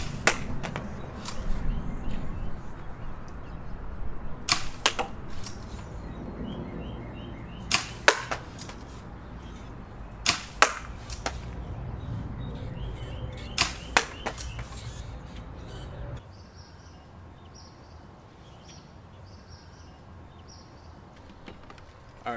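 Harrier foam blaster firing Dart Zone bamboo darts, a series of sharp, loud snapping shots spaced a few seconds apart over a steady outdoor background, the final stretch quieter with faint chirps.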